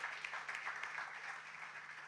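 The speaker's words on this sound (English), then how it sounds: "Give her a round of applause for me." Audience applause at a Ministry of Housing handing-over ceremony, a steady, moderately faint patter of many hands clapping at a distance for about two seconds with no talk over it.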